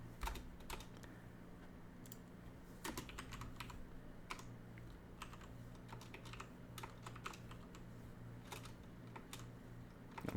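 Typing on a computer keyboard while coding an HTML and CSS café menu, with steady bursts of close, quiet key clicks running through the whole stretch and no voice.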